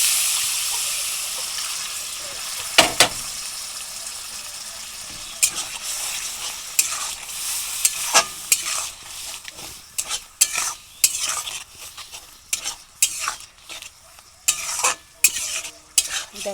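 Masala for a prawn malai curry sautés in a pan. A spoon scrapes and stirs in irregular knocks and strokes over a soft, steady sizzle that grows busier toward the end.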